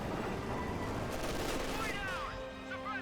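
Volley fire crackles as dense, continuous massed rifle and machine-gun shots in the Company of Heroes 2 strategy game, with Grenadiers in a firefight, loud and unbroken while a commentator talks over it.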